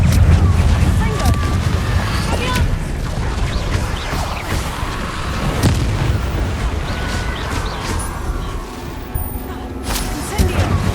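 A Confringo explosive spell in Hogwarts Legacy produces a heavy, rumbling blast that fills the scene. Booming low-end impacts persist under ongoing combat noise, with a voice speaking over it.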